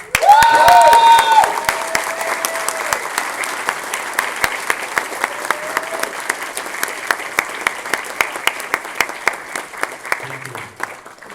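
A convention crowd at TFcon 2012 breaks into sustained applause for the guests, full and loud at first with a whistle or cheer, then settling into a steady, thinning patter of claps.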